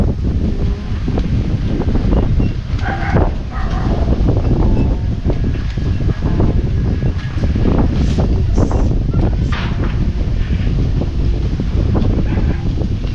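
Gusty wind buffets the microphone outdoors, a steady low roar with rustling surges throughout, under faint scattered voices of people talking nearby.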